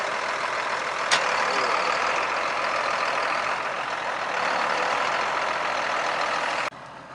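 An MTZ tractor pulls a Gaspardo seeder across a field during sunflower sowing, its engine a steady, loud drone that drops off abruptly near the end.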